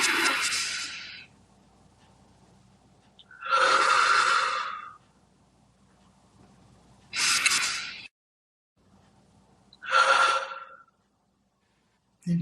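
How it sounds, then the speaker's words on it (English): Three slow, deep breaths drawn in and released, each a long breathy whoosh separated by quiet pauses, close and clear with no talking. "Let us seal this prayer with 3 deep breaths."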